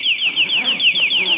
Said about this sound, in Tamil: ஓப்பன் பண்ணி அப்படியே உள்ளே வந்தோம் அப்படின்னா அலாரம் அடிச்சுக்கிட்டே இருக்கு பாருங்க